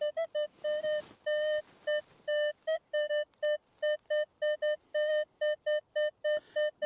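A Minelab Manticore metal detector sounds its target signal while detecting in a UK field, a clear run of short, evenly repeated electronic beeps, fairly close and alone.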